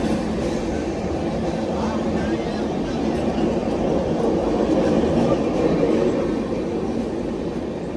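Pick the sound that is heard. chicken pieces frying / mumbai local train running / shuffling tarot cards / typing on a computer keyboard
mumbai local train running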